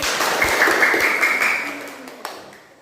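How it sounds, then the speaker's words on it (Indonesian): Students in an Indonesian classroom clap for classmates who have just presented their animal-motif drawings, a steady patter of hands sustained for about two seconds before fading out. "Tepuk tangannya untuk temannya dulu"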